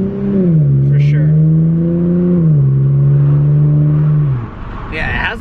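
Lexus IS 350 F Sport fitted with a Remark exhaust revving, a loud deep sustained engine drone that holds, dips slightly, then cuts off, with brief voices at the start and end.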